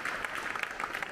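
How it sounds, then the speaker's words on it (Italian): Generous audience applause after a spring classical concert at the Russian embassy in Rome, a brief dense patter of many hands clapping. "tanti i presenti che hanno apprezzato con generosi applausi il concerto"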